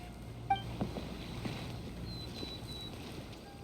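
A wooden raft drifting up to a dock in a video game, with soft water lapping and a few light knocks and bumps against the landing, quiet and without speech.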